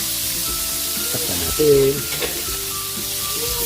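Tilapia frying in a pan of hot oil, a loud, steady, close sizzle that runs throughout, with a person speaking briefly over it.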